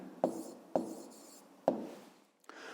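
A pen writes an answer to a fifth-grade maths exercise on paper, with quiet scratching strokes broken by three sharp taps, followed by a faint rub.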